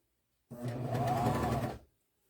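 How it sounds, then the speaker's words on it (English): A serger stitching encased elastic for a nursing bra runs in one steady, loud burst of about a second and a half, starting and stopping abruptly with quiet on either side. "I'm not sure that this serger can handle that, but we'll give it a try"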